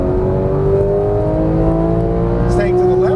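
Porsche 991 GT3 475 HP engine accelerating on a race track, a loud onboard rising howl under steady throttle, with a voice talking over it.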